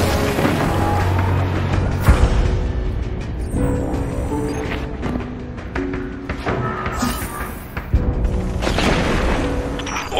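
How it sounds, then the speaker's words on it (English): Orbital bombardment explosions in the video game Destiny 2, a series of deep booms and impacts at irregular intervals over a rumbling bed with game music tones underneath. "Orbital bombardment incoming."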